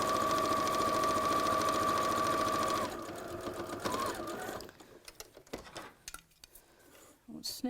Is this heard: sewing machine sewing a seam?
yes